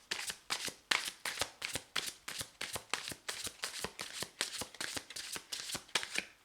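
Tarot cards are shuffled in a close, crisp run of rhythmic riffles, each a quick papery flutter repeating about twice per second with no talk over it.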